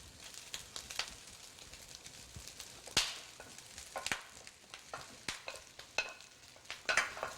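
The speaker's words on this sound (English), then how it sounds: "I do a good mix and stir fry" Yangzhou-style fried rice with eggs being stir-fried in a wok: steady oily frying hiss with frequent sharp scrapes and clacks of the utensil tossing the ingredients, fairly close, no voices.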